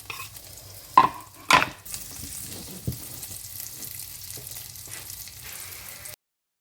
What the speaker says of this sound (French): on va faire revenir donc les oignons, hop hop hop, avec l'ail émincé.